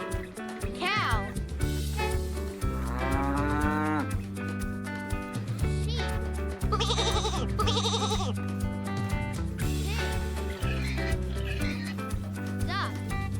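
A cow moos in a children's nursery-rhyme animal-sounds song, the lowing heard over a steady, bright music backing with other farm-animal calls mixed in.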